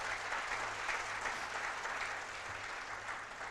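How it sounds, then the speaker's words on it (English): A large audience applauds at a keynote speech of the 2023 GPLC Indo-Pacific conference, producing a continuous, even roar of clapping, moderately distant and steady throughout, with a low hum beneath. "Let's give him a round of applause."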